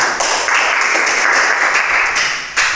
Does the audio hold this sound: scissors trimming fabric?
no